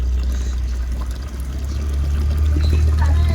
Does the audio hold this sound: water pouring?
yes